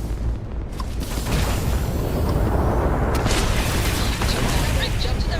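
Automatic ship guns and explosions in the space game Starfield form a dense, continuous roar of booming bursts, loud and close throughout with no clear gaps, while a voice speaks faintly underneath.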